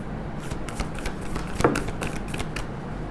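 Tarot cards are shuffled during a collective reading, giving soft, quiet riffling flutters that repeat in quick bursts with one sharper snap near the middle and no talking.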